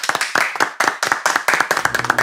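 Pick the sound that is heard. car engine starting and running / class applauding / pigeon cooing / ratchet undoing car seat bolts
class applauding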